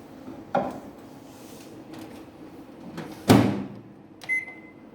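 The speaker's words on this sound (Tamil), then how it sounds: "மைக்ரோ மீடியமில் வைக்கிறேன்." A microwave oven in a home kitchen being set to medium power for a mango halwa: a few sharp clunks and button or door knocks over a low hum, then a brief high electronic beep near the end, with no talking.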